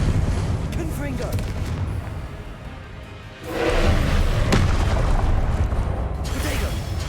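Spell explosions from the Confringo fire curse in the Hogwarts Legacy video game: a steady roar of blasts and rumble, surging loudly at about three and a half seconds and holding with repeated booming bursts.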